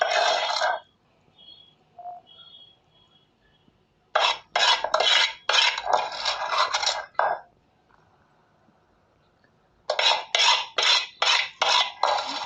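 Hot sugar syrup stirred into fried gavvalu sweets with a spoon in a metal pan, giving bursts of rapid scraping clinks separated by quiet pauses.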